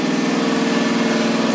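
Rebuilt Honda 400EX ATV engine running at a steady idle, a loud, close, rapid thumping putter with no voices.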